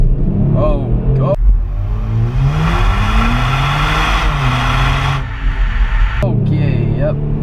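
A Kia Stinger with a race chip and pedal commander accelerates hard in Race Plus mode, a loud close engine roar whose pitch climbs through rising sweeps, with people talking over it at the start and end.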